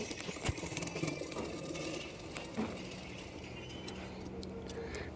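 A sewing machine stitches the side seam of a prince-cut blouse, a soft steady mechanical whir with rapid ticking needle strokes, fairly faint and close, with a couple of small knocks.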